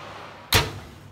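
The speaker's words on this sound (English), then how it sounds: "I'm going to shut the door now." A kitchen oven door swings shut with a single soft thud, close by, against a quiet steady background.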